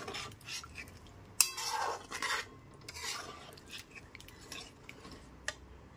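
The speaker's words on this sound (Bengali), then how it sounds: "জলটা দিয়ে খুব ভালো মতো মিশিয়ে নিচ্ছি।" Hot water being stirred into a spiced gravy in a pan, with close, irregular scraping and clinking of a metal spoon against the pan over a soft simmer, with no voices.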